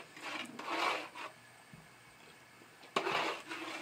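A spoon scrapes and rubs around a pot of red mole sauce, in two bursts of stirring separated by a quieter pause; close, moderate scraping with no talk.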